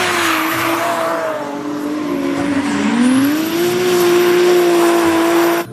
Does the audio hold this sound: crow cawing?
no